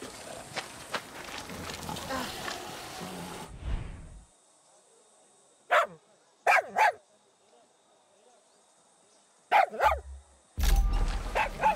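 A dog in Far Cry 6 lets out several short, sharp barks in separate bursts, near and loud, between stretches of quiet, with game sounds and talk around them.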